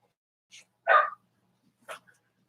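A dog barks a few times, with one loud, full bark between two short, sharper yaps, against an otherwise quiet room.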